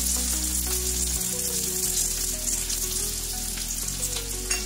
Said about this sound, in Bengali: পেঁয়াজটাকে ভেজে নিচ্ছি।